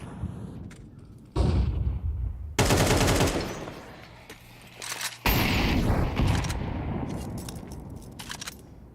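Automatic rifle bursts from an AK in a Counter-Strike match, several loud rapid volleys cutting in and out with near, sharp reports and some booming layers.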